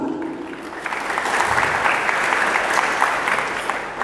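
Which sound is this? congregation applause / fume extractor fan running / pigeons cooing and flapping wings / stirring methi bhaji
congregation applause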